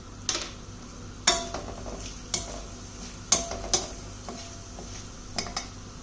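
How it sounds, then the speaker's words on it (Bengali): Cumin seeds and dried red chilli tempering in hot oil in a pan, a soft sizzle under a series of sharp metallic spoon-against-pan clinks and scrapes at irregular intervals. "আমি এখানে জিরে ফোড়ন দিচ্ছি"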